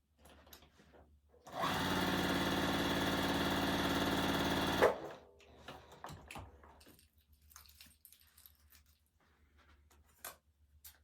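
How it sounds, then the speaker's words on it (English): A sewing machine stitches along a drawn diagonal line on quilt pieces, running in one steady loud buzzing burst of about three seconds before stopping, followed by quiet handling and rustling of fabric. "I'm just going to run it through and sew on the other side of that line"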